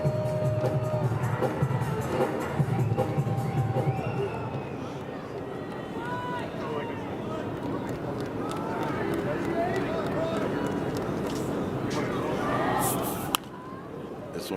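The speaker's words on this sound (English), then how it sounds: "Gotta respect the enthusiasm of the stadium entertainment crowd here as they put up a Get Loud on the big board" Baseball stadium crowd cheering at an MLB game between the Houston Astros and Cleveland Guardians, a steady roar of many voices that swells and holds throughout, with a sharp crack near the end.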